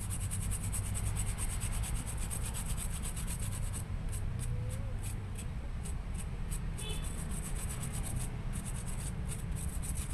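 Steady scrubbing and rubbing on the engine control unit of a Toyota Great Corolla with a 4A-FE engine, cleaning off rust and dirt, a continuous close-up abrasive brushing with brief quicker strokes partway through.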